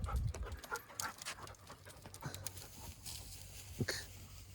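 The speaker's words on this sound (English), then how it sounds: "These dogs are just making themselves at home." Dogs panting on a rural property near a building and chickens, quiet rhythmic breathy pants close by with a few soft whimpers.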